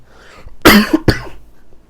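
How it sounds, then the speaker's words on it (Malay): A teacher coughs during a science lesson: two sharp, close, loud coughs about half a second apart, rough and throaty, with quiet room tone before and after. "Maaf ya, cikgu batuk."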